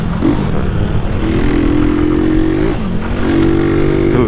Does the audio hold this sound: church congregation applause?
no